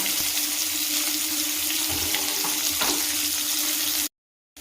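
Onions frying in white oil in a pan, a steady close hiss with occasional stirring scrapes, cutting off abruptly just before the end.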